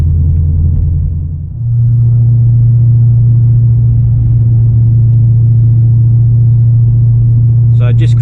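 A car cruises along Gympie Road through the Kedron area, its engine a loud, steady low hum with a brief dip early on and a faint higher sound near the end.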